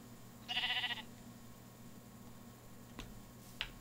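A pink sheep gives one short, close bleat, followed by quiet and a couple of faint ticks.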